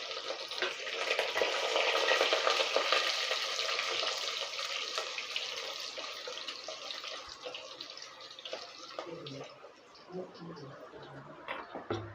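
Chopped garlic sizzles in hot oil, a bright crackling hiss that starts loud and gradually softens, with light stirring noises near the end.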